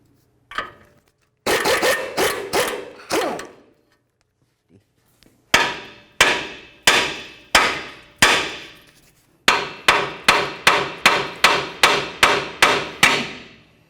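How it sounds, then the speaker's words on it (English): A hammer bangs on the steering knuckle of a 2009-13 Ford F-150 to break the tie rod end free: loud, close metallic blows in three rapid bursts, the last a steady run of about eight strikes. "we're going to give the knuckle a couple bonks and try to break it free"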